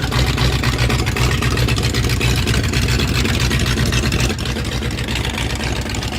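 Engine of Scott Sheehan's number 21 early Ford race car running steadily, a loud, dense, rumbling drone with a low throb throughout, close up and with no talking.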